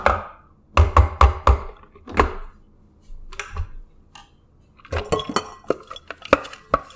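Veggie burger ingredients are scooped and dropped into a big bowl in a home kitchen, making irregular clinks, knocks and scraping clatters of utensils against the bowl, close and fairly loud, with short quiet gaps between.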